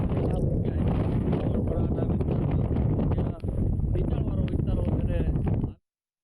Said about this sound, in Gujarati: દ્વારકામાં હાલમાં ભારે પવન સાથે ધીમી ધારે વરસાદ ચાલુ છે